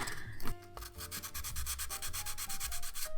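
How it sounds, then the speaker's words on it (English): Steady rhythmic sanding strokes rasp against the inner edges of broken ceramic pieces, close and fairly loud, repeating in quick regular passes with a faint low hum underneath. "the next step is to kind of sand down a little bit the inner edges of these"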